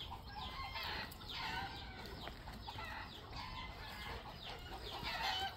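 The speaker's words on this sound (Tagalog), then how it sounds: "Itong manok matutulog na lang ingay pa nila, no? Tilaok pa." Chickens on a farm cluck and squawk in repeated bursts, with a rooster crowing among them, heard at moderate distance over a noisy, restless background.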